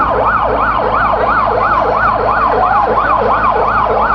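A loud, close ambulance siren wails in a fast, regular up-and-down sweep, continuous throughout, at an airport emergency after a plane skidded off the runway and caught fire, with faint road noise beneath.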